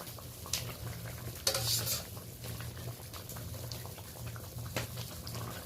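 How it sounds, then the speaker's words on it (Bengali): A thin fish curry with ridge gourd and potato bubbles at a steady boil with soft, close bubbling and occasional light pops and stirring sounds. "ঝোলটা ভালোভাবে ফুটে গেছে।"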